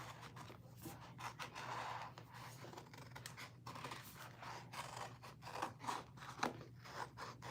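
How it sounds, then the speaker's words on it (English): Close, quiet snips of scissors cutting out small pieces for a glitter snow globe tumbler craft. The short cuts come in an irregular run over a faint low hum, and no one speaks. "I'm going to go ahead and cut some of these out"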